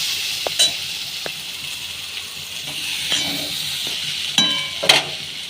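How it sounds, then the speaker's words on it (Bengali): Potatoes fry with turmeric in hot oil, giving a steady close sizzle with occasional scrapes and clinks of a utensil stirring the pan. "আলুগুলো একটু হলুদ দিয়ে ভাজিয়ে নেব।"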